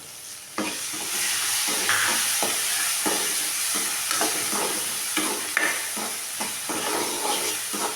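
Tomato goes into a hot pan of drumstick leaf rice, with steady sizzling frying and repeated scraping stirs close by, and no talking.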